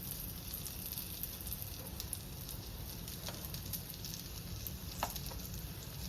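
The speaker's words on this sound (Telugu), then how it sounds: "ఇది ఒక్కసారి ఫ్రై చేస్తున్నాను నేను." Powdered clove, cinnamon and cardamom fry in hot oil for an egg curry, giving a quiet, steady sizzle with a few soft stirring clicks and no voices.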